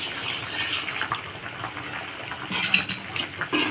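About one and a half tumblers of water are poured into a fish curry while it cooks, a close splashing gush that stays unsteady throughout and swells in short surges near the end.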